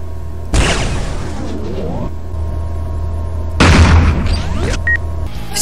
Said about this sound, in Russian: но вот звук выстрела рейлгана только испортили.